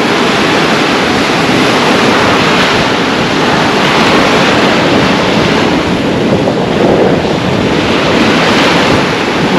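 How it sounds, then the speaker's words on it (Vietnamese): Ocean waves breaking on a beach, a loud, continuous wash of surf with wind noise, steady and close without any talk. "Ngồi đây không mà nghe tiếng sóng biển không cũng vui nữa."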